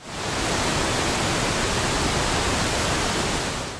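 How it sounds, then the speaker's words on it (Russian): Steady, dense rushing water roars continuously from a waterfall in Svaneti, Georgia, a broad hiss heard up close, unchanging throughout. "А это красивенький водопадик,"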